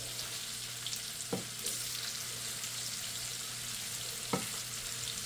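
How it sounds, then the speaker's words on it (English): Squash frying in butter in a pan, a quiet steady sizzle with two soft knocks of a utensil against the pan, no talking. "Get the squash down, try to get it on the bottom of the pan now."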